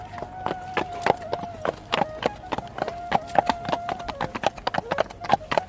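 A horse gallops away in a rapid, even run of sharp hoof clip-clops over several seconds, with a thin steady tone running underneath.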